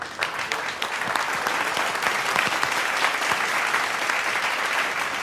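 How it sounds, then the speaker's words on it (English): An audience at a retail real estate conference session applauds its speakers, with sustained, dense clapping from a moderately sized crowd that holds steady throughout. "please give our speakers another round of applause"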